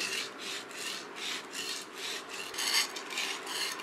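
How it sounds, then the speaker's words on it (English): A sashimi knife is sharpened on the rough side of a whetstone, a rhythmic series of gritty rasping strokes at a steady pace, about two per second, close and clear with no voices. "And so I'm just going to sharpen this blade."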